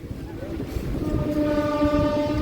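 A passenger train on the new Guntakal–Markapur line rumbles along with a continuous clatter, while a sustained horn note rises and holds through the second half, fairly close.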